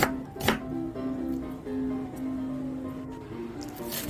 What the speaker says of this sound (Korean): 양파는 아주 얇게 썰어줍니다.